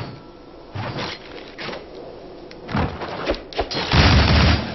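Gunfire from the Shank video game, a series of loud booming bursts and thuds that come in uneven clusters, with the heaviest volley at the end, and no talking.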